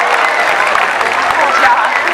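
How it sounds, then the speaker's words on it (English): An audience claps for volunteers at a SeaWorld San Diego orca show, steady and dense throughout. A presenter's amplified voice talks over the applause. "Let's give our volunteers one more round of applause"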